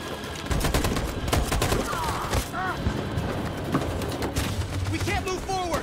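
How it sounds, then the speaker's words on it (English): Machine gun fire in the video game Detroit: Become Human, with dense rapid bursts of gunshots and heavy thuds filling the scene, loud and close, mixed with shouted voices. "That machine gun is taking down everything that moves"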